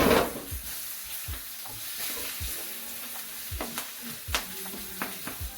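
Spinach wilting down in a hot pan with cauliflower and potatoes for Bombay cauliflower, giving a soft steady sizzle with a few stirring scrapes and clinks over about five seconds.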